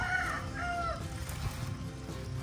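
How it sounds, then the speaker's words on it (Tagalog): A flock of chickens kept together under new netting clucks and calls continuously at close range over a steady outdoor background murmur. "Sama-sama na dito yung mga manok niya."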